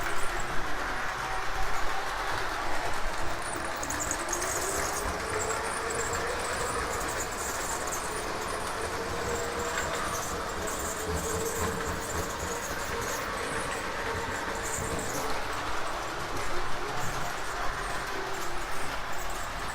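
O-gauge model trains with lighted passenger cars run steadily along the layout track at a slightly faster speed, giving a continuous rolling rumble with faint clicking from the rails, close and fairly even throughout.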